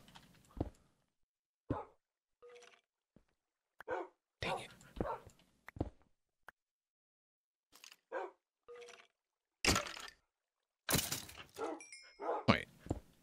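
Minecraft dogs bark in a video game, with short sharp yaps in scattered bursts, some close and loud, broken by silent gaps and a few thunks.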